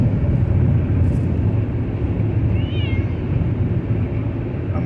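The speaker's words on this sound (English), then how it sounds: "Y'all can hear Kitty right now" A cat meows a few times during travel, the mews fairly clear over a loud, steady low rumble of road or engine noise that fills the background.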